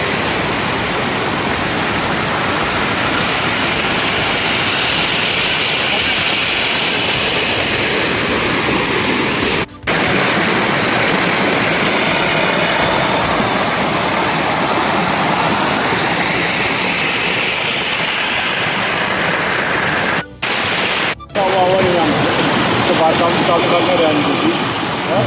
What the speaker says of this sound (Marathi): हे पहा किती मोठा धबधबा आहे.